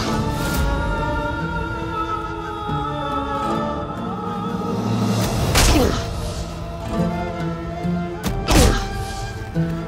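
Punches landing in a fistfight between two men, heavy thuds and whacks over a dramatic musical score, with a couple of sharp hits standing out midway and near the end.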